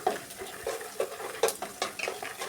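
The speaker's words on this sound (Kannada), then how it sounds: "ನಾವು ಲೋ ಫ್ಲೇಮ್ನೊಳಗೆ ಹುರ್ಕೊಂಡು ಅಂದ್ರೆ ನೀಟಾಗಿ ಫ್ರೈ ಆಗ್ತಾವ್ರಿ" Peanuts roasting in a pan over a low flame, stirred with repeated dry scraping and rattling strokes that come close and steady, with no voices.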